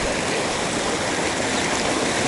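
Glacier Creek, a mountain stream near Leadville, Colorado, rushes steadily in a dense, continuous broadband wash of flowing water, loud and close with no pauses.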